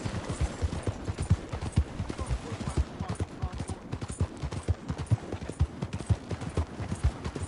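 Horses walk in Red Dead Redemption 2, their hooves clip-clopping in a steady, close rhythm that carries on throughout, with a voice speaking faintly at moments.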